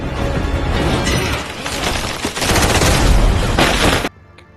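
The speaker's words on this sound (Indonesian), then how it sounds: "satu persatu pasukan Antonio pun dibabat oleh John. Namun saat hendak merobohkan sebuah tiang, sayangnya John tertembak di bagian perut" Gunfire in an action-movie fight scene: dense, loud volleys of shots and crashing impacts fill about four seconds before cutting off abruptly into near silence.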